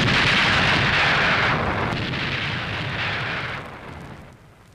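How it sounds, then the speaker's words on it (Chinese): Artillery shelling in a 1962 Chinese war film, a dense, loud roar of rumbling blasts and booms rolling on continuously, then easing off toward the end. "敌人怕我们夜间抢修工事，才拼命的打炮"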